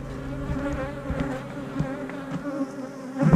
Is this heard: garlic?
no